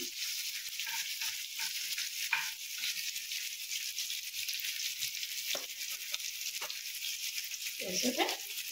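Chopped vegetables fry in a pan with a constant soft sizzling hiss, steady and close, with a few faint clinks and a brief murmur near the end.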